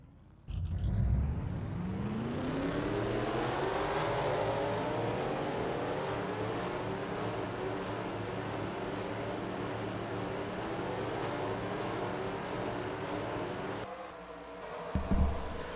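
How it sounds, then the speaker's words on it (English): Several stock-car engines fire up together in a NASCAR-style video game race at Kansas, swelling from a sudden start into a loud, sustained multi-engine roar and drone that holds steady before a brief dip and sharp burst near the end. "Drivers, start your engines."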